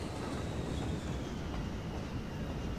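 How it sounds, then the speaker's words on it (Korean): A freight train rolling along the tracks in the Cities: Skylines city-building game, a continuous rumbling rail noise with faint clickety-clack, steady and fairly close with no voices. "저쪽은 화물열차선이 오른쪽에 움직이고요"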